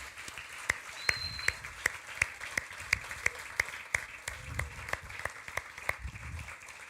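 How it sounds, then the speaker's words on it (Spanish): Church congregation applauding during a sermon, a steady crowd ovation with prominent rhythmic claps near the front, a faint voice murmuring underneath. "Un aplauso al Altísimo"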